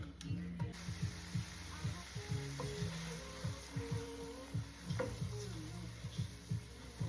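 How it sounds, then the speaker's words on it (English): Onions sizzle faintly in a hot pan while a cooking chicken dish is prepared, a low steady crackle under a rhythmic clicking and clattering of utensils, quiet and close. "I'm going to add the onion."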